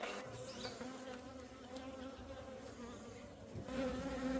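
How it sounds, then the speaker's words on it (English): Honeybees in a beehive built from trash make a faint, steady, dense buzz that continues unbroken throughout, with no voices. "even though the hive's made of trash, it still keeps bees pretty well."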